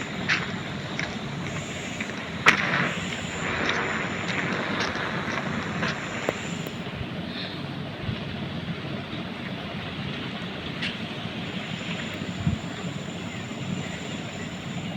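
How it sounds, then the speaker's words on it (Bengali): Helicopter engine in the mobile game Indian Bike Driving 3D, a steady mid-level droning rotor and engine hum running continuously, with a few brief clicks and taps on top. "হেলিকপ্টার নিব।"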